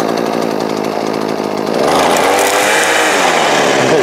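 A Makita EM2600L string trimmer runs loud and close, its engine droning steadily before revving higher and holding a continuous buzzing whine.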